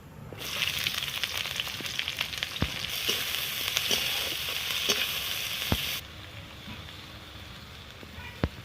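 Green chillies and onion frying in oil in a kadai with bay leaves, a steady close sizzle that swells and then drops to a quieter crackle, with occasional sharp taps of a spoon.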